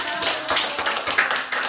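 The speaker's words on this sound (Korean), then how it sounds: "박수 한번 치세요." A church congregation claps briefly during a Sunday service, a short, lively patter of many hands at moderate loudness.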